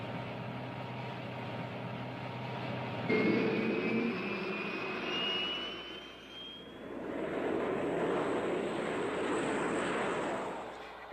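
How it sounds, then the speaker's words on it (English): A fighter bomber jet drones steadily, with a rising whine and a broad roar that swells as it passes, then fades slightly. "The spotter plane guides the fighter bombers to their target"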